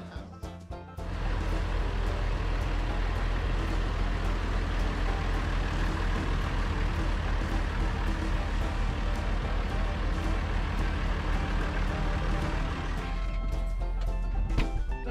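A big tractor with front PTO, front links, cab suspension and air brakes drives along. Its engine gives a loud, steady low rumble that holds for about fourteen seconds, with clattering and rattles over the top.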